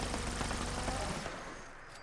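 Heavy gun firing in Fallout 76, a dense, loud, continuous burst of rapid shots that runs steadily for over a second, then thins out into a fading tail with one last faint crack near the end.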